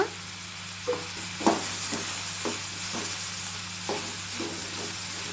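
Moringa leaves sautéed in a pan, a low steady sizzle with a hum underneath and a handful of scattered stirring scrapes, quiet and close, no talking.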